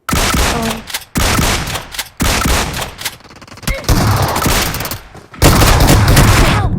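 Rapid automatic gunfire in the shooting game PUBG Mobile, loud bursts of close shots in several volleys separated by short pauses.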